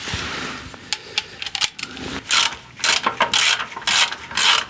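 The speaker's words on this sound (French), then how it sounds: "Ok, je dévisse." A ratchet screwdriver backs out a screw, giving repeated bursts of rapid clicking from the pawl, close and distinct, with brief pauses between turns.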